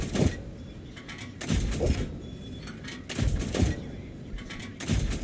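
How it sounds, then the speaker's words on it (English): In World of Tanks, a tank gun fires at an LT-VZ38 in several loud, sharp shots spaced a second or so apart, each with a booming decay, amid battle noise and a little talk. "we're going to try and get some shots off on this LT-VZ38"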